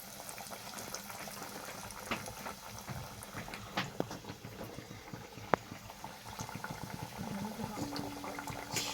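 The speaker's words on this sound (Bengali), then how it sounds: "Chicken cutlet. এখন ভাজা হচ্ছে" Chicken cutlets frying in oil in a home kitchen, giving a steady bubbling sizzle with scattered pops and crackles throughout, fairly close and constant, with no talk over it.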